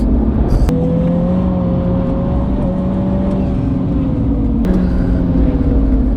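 A 2020 MINI John Cooper Works GP engine droning loudly at speed from inside the cabin, with a steady tone that drops briefly at gear changes.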